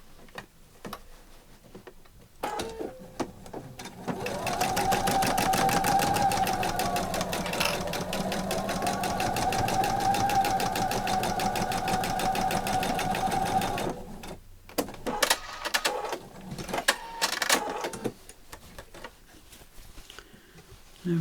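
Sewing machine running in a fast, even burst of stitching across fabric while a simple bag is made, lasting about ten seconds, preceded and followed by soft handling clicks and fabric rustles.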